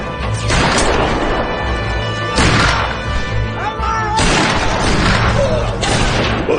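Bullets crash onto a roof in several heavy, loud bursts of impacts and booms, with sharp debris-like smashes between them in an intense firefight.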